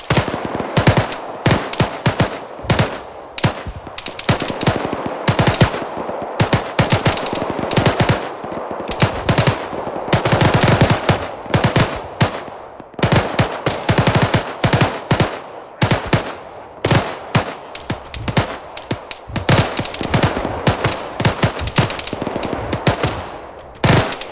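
Sustained machine gun fire in the military video game ArmA 3, loud bursts of rapid automatic shots stacking up in dense, overlapping volleys for the whole stretch with only brief gaps.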